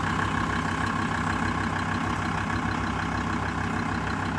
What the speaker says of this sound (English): yes, we do have the engine on, so I have to get the diesel up